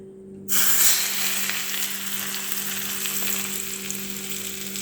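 Hot coconut oil tempering is poured over a chutney, setting off a sudden loud sizzle that bursts in and then settles into a steady crackling fry, with a low hum beneath.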